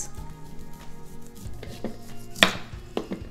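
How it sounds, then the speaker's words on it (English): A knife chops fresh beetroot on a kitchen board, with a handful of separate knocks and clicks over a quiet room, one blow sharper and louder than the rest. "first we'll chop these beetroot and then we'll just cut it into slices"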